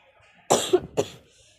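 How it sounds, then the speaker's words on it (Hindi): Two sharp coughs close together, near and fairly loud, with brief quiet before and after. "मुझे खांसी हो रही है"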